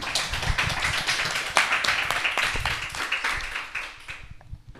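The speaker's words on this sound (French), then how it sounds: "applaudissements" A crowd applauds steadily for several seconds, dense clapping that thins out and fades toward the end.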